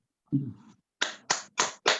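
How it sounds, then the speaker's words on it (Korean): Four sharp, evenly spaced claps ring out close by after a brief murmur of voice, a small, sparse welcome for a guest speaker at a prayer school session. "박수로 환영해 주시기 바랍니다"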